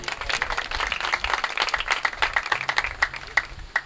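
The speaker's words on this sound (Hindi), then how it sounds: "यीशु के नाम के लिए बारपुर ताली।" A church congregation bursts into sustained applause, dense overlapping hand claps with a few sharper claps standing out, loud and close, steady for several seconds with no voices over it.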